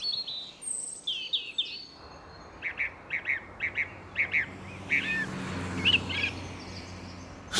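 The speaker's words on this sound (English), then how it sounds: "I've had to travel over 100 miles just to hear this bird" Nightingale song rings out in a quick series of clear, repeated whistled notes and chirps, fairly close, over a hushed outdoor background.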